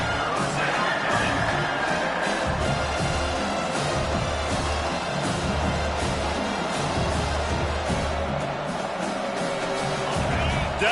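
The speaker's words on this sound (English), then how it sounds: "Decibels rising as the crowd gets behind this defense on 3rd down." Stadium crowd noise in a video game football match, a steady roaring wash of cheering fans that stays loud throughout, with a commentator talking over it.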